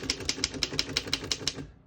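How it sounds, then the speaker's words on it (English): Keys clack steadily on a 1927 Underwood No.5 vintage desktop typewriter, about ten crisp, evenly spaced strikes close up, fading out at the end, with no voices. "We're going to keep it on single and continue typing."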